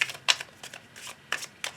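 Tarot cards being cut and shuffled close up, a series of quick papery riffles and flicks in uneven bursts, with no talking.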